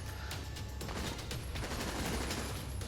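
Rapid gunfire from a controller-triggered weapon shooting practice targets in Earth Defense Force 5, a dense continuous burst of shots running loud throughout with no talking.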